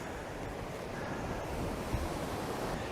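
Waves breaking on a Persian Gulf beach in Hormozgan, Iran, a steady broad wash of surf with wind rushing across the microphone, moderately loud and continuous without voices.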